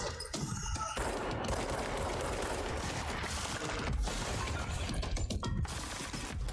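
Rapid automatic gunfire from a firefight in the video game Control, with bursts and dense volleys of shots crackling almost continuously, loud and close, with mechanical clatter between them.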